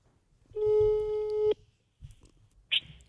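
A telephone tone rings as a single steady beep lasting about a second, followed by a few faint clicks and a short bright chirp, heard close and alone with no talking.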